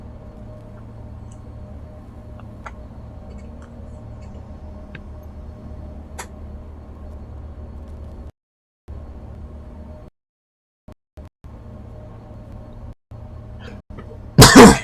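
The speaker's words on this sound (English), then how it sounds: "don't mean to cough in your ear" A single loud, sharp cough bursts out near the end, close to the microphone, after a steady low drone of in-game ambience from Space Engineers 2 survival with a few faint ticks.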